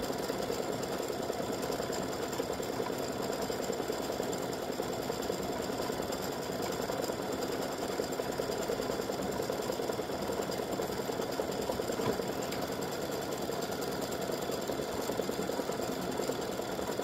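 A sewing machine stitching the foundation layer of a freestanding-lace Easter bunny embroidery, a steady, fast, even mechanical whir and tapping that runs without pause, fairly quiet and alone.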